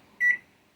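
A microwave oven, about to be used to bake bananas, gives a single short, clear electronic beep that stands out against a quiet kitchen.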